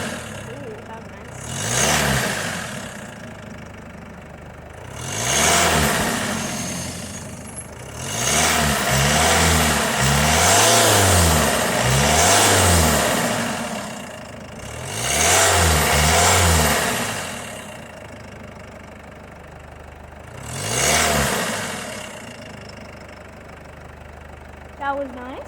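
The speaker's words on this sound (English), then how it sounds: "Okay, I'm just going to go and rev the engine a few times" A 2016 Mercedes C220 CDI AMG Line estate diesel engine revved several times from idle, each rev a loud swelling roar that falls back to a low idle, with a longer sustained rev in the middle, heard up close.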